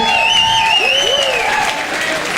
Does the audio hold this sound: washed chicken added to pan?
no